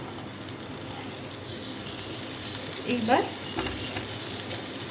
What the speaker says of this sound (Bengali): এগুলোকে একটু ভাজা ভাজা করতে হবে, যতক্ষণ না ওই রসুনটা একটুখানি ব্রাউন হয়ে যাচ্ছে ততক্ষণ এটাকে একটু ভেজে ভেজে নিতে হবে